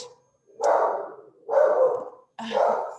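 A dog barks three times indoors, in loud, evenly spaced barks with short pauses between them, and no talk over the barking.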